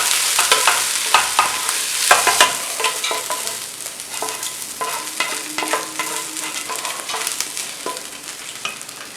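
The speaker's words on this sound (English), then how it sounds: "I'm going to stir it up." Sweet Italian sausage and ground beef frying in a pan, a steady loud sizzle with repeated scraping and clacking of a spoon as the meat is stirred, no talking.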